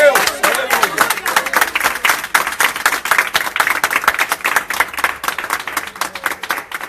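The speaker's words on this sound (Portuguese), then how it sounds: "Vamos aplaudir a Jesus, pessoal." A church congregation claps for Jesus during a Universal Church service, a dense run of quick hand claps close and continuous over a faint murmur of voices.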